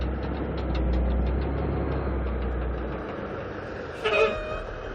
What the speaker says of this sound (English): This truck decided just to show up.